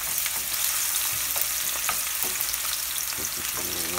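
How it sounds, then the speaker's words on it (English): Onion sautéing in about a third of a cup of olive oil, giving a loud, close, continuous sizzle with scattered crackles and pops throughout, no voices. "I'm gonna put it in about a third of a cup of olive oil. We're gonna start sauteing that."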